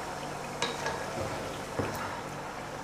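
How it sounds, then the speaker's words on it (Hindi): Biryani masala with salt and chili flakes is stirred and fried in a pan, a steady close sizzling hiss broken by a few soft clicks of the spoon. "तो अब इसे मिक्स कर लेते हैं और मसाले की अच्छी तरह से भुनाई कर लेते हैं।"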